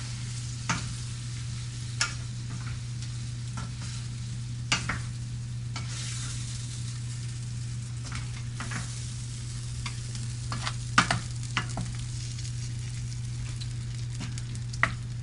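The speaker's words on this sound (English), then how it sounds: "Add the gnocchi to the sauce. Turn off the heat. Just fold that in lightly." Gnocchi gently folded into a vegetable sauce in a pan with the heat off: soft, faint stirring and scraping comes in scattered light clicks over a low, steady hum, with no talk.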